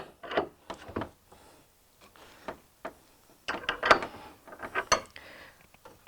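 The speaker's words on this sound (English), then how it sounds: "So you take your wrench. I'm going to loosen this first." A wrench loosens a bolt on a metal gate frame, making a series of close, irregular metallic clicks and clanks with short quiet gaps between them.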